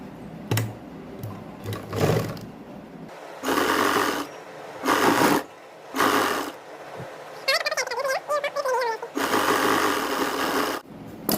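A sewing machine stitches lace onto a sleeve of plain cloth, running in several short close bursts separated by brief pauses, loud and mechanical with no talk over it.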